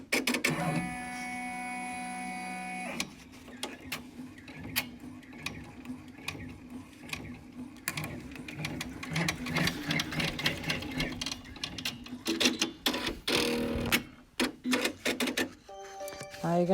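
An embroidery machine stitches an in-the-hoop pleated face mask, running in a close, rapid mechanical whir with clicking needle strokes. It stops briefly partway and then resumes, with faint handling noises around it.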